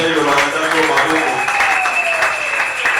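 Church congregation applauding during a Sunday service, a steady dense wash of clapping throughout, loud and sustained, with a voice faintly audible beneath.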